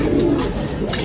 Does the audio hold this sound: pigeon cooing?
yes